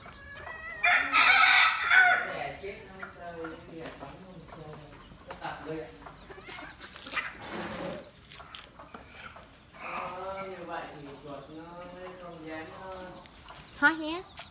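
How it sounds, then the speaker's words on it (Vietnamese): Chickens clucking with a rooster crowing in a rural yard, a loud burst early on followed by repeated clucks and crowing. People talk nearby at times. "có rừng con gà nè"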